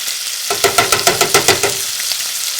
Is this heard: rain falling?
no